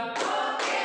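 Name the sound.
hand clapping in a classroom clap-count game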